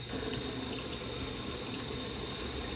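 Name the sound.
kitchen tap running water over salmon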